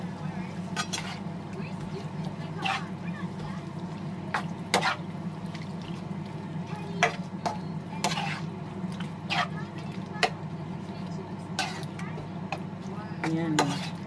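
Food for an Easter Sunday dinner being stirred in a pan with soy sauce, a continuous low simmering bubble punctuated by frequent sharp clinks and scrapes of a spoon against the pan.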